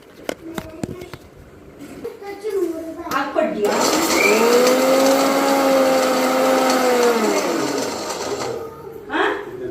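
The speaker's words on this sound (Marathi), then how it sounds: "आणि ह्याची मस्त अशी पेस्ट करून घेऊया." A mixer grinder whirs loudly for several seconds, grinding roasted spices into paste for Kolhapuri chicken sukka, with its pitch shifting as the load changes. Clattering handling sounds come before and after the run.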